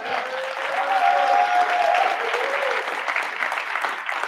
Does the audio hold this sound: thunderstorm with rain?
no